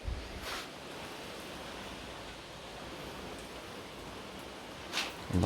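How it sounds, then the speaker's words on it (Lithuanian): Heavy rain pours down steadily outdoors in a yard, a dense, even broadband hiss that stays constant throughout, with a couple of brief louder bursts and a thump near the end; no talking. "Labai smarkiai lyja."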